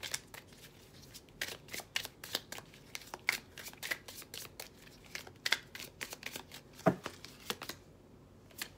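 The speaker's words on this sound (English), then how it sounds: "let's pull from the constellation cards" Constellation oracle cards being shuffled, a continuous run of soft riffling and flapping card sounds close by, with a few sharper snaps and no voices.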